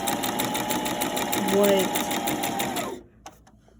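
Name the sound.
sewing machine sewing a zigzag stitch on fabric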